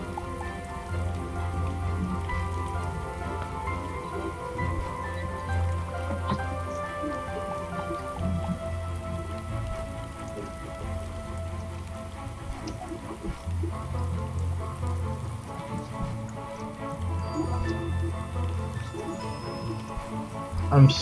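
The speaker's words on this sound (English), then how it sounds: "I hear the rain." Steady rain in the game Starbound patters continuously through the whole stretch, a dense wash of drops with a low rumbling bed underneath and occasional louder splashes.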